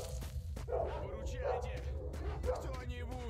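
Several dogs bark and yip in the video game STALKER: Shadow of Chernobyl, giving repeated close barks with whimpering tones over a low game rumble, with someone talking over them.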